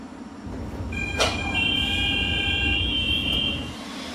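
An airport people-mover train pulls out of a terminal station, rumbling steadily with a sharp clunk, then a set of sustained whining electric motor tones rising over the rolling wheel noise.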